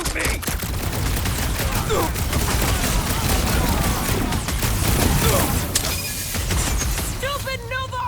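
Dense, sustained gunfire in the video game Marvel's Guardians of the Galaxy, with rapid overlapping shots and mechanical clatter running loud throughout, plus voices and effects near the end.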